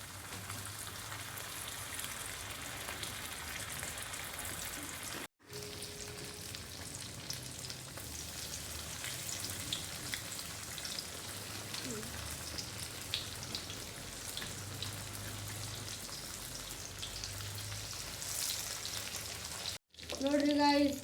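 Masala-coated fish frying in hot oil in an Indian home kitchen, a steady loud sizzle and crackle with light stirring and a couple of brief breaks.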